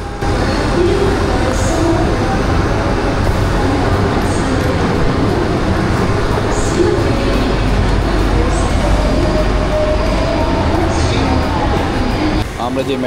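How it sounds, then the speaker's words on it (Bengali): A metro train on the Kuala Lumpur MRT rumbles steadily nearby as it pulls away, a continuous loud roar with people talking over it. "এই মেট্রো চলে গেল"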